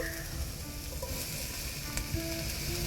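Two cups of cauliflower sizzling in a skillet of vegan black-eyed peas, a steady close frying hiss with faint bubbling and light clinks, no voices over it.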